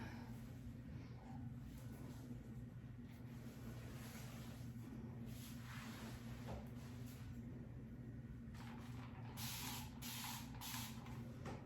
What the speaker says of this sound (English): I'm just spraying my brush because it was getting a little thick.